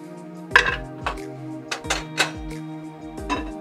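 Seasoned chicken meat for Dominican chicken soup goes into a cooking pot, giving a run of close metallic clanks and clinks, uneven and sharp, with quiet moments between the knocks.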